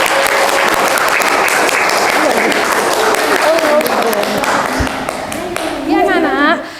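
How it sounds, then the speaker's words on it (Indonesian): Children in an art classroom applaud loudly and close by, a dense clatter of clapping that thins toward the end as a voice begins talking over it. "Silakan tepuk tangan buat nama."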